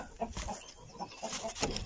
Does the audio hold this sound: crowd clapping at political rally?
no